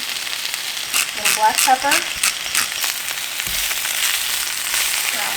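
Spinach frying in a pan for spanakopita, a loud, close, continuous sizzle with crackling and stirring bursts early on, while a voice speaks briefly over it.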